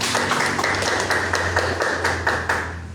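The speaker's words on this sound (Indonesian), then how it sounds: "Tepuk tangannya semuanya." Audience clapping at the close of an event organizer training session, a dense, even patter of many hands with loud individual claps standing out, heard alone without speech.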